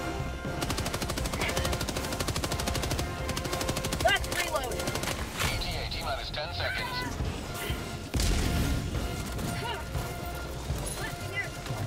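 Rapid, heavy autocannon fire in Helldivers 2, in bursts with crashing impacts, mixed with shouted voices and game effects throughout.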